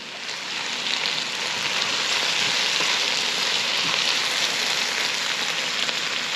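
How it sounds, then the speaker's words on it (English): Mushrooms, including lobster mushrooms, sizzling as they cook down in a pan for jambalaya; a loud, dense, continuous hiss like steady rain, close and unbroken throughout, with no talking. "So we just want to cook those mushrooms down a little bit, see if they'll release some of their moisture"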